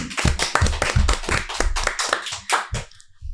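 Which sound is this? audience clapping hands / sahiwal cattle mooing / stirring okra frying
audience clapping hands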